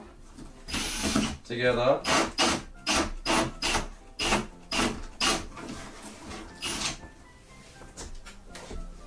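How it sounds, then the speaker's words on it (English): A power drill bores holes through stacked Pokemon trading cards in a series of short, loud grinding bursts with pauses between them, while a person speaks over and between the drilling. "So let's drill through these last couple"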